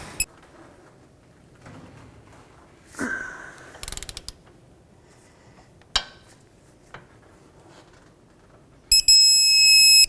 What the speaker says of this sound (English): I can't torque the nut side, so I'm going to have to torque the bolt side